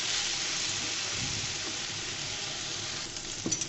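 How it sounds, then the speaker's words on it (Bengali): Eggplant slices frying in oil in a pan for a Bengali brinjal pickle dish, a steady loud sizzle running throughout with no talk, a few faint clinks near the end. "আমি সুন্দর করে ভেজে নিচ্ছি"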